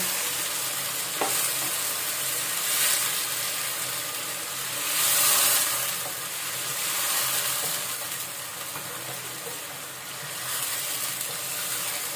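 Chicken pieces hit hot fried onions in a karahi for chicken karahi with gourd, giving a loud, steady sizzle and frying hiss that swells and eases over about twelve seconds, with occasional stirring scrapes and no speech.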